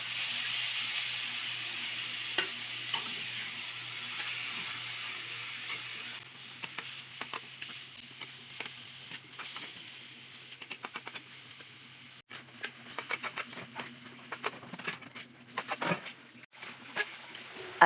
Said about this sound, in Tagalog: hahaluin na naman natin at gigisahin natin hanggang sa mag-brown ang ating